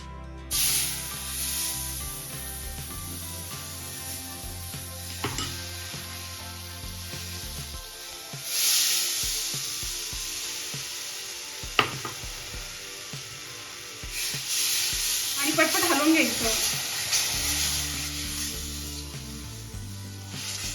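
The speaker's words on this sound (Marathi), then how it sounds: "आपण आता यामध्ये आपण आंब्याचा रस ऍड करून घेऊया" Mango juice is poured into semolina roasted golden in a hot pan, bursting into loud hissing sizzles in waves, with a few spoon taps and steady stirring between them.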